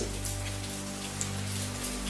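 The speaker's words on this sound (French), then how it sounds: "Il pleut." Steady rain falls, a soft, even patter of drops on surfaces with a faint low hum underneath, continuous and fairly quiet throughout.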